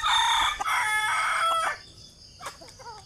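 A sweater-comb gamefowl rooster crows up close, one long, loud cock-a-doodle-doo lasting under two seconds, followed by softer clucks and faint chirps.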